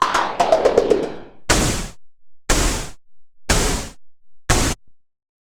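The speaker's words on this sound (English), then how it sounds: "For the sound itself, it's largely just noise, with a bit of distortion and a bit of filtering." A short burst of rapid clicking ticks, then four separate harsh, distorted synthesized noise drum hits with filtering, evenly spaced with gaps of silence between them.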